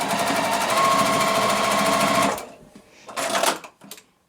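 A sewing machine stitches quilt house fabric pieces in a fast, even mechanical buzz for about two seconds, then stops, followed by a couple of brief handling rustles.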